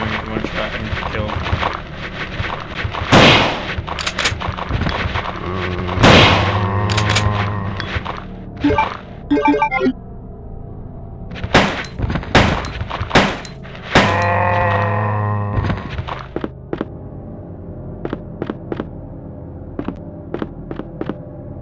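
Gunfire in Resident Evil 2: a string of sharp, loud game shots and impacts scattered through the stretch, mixed with music and effects, with bursts clustered early and in the middle and fewer toward the end.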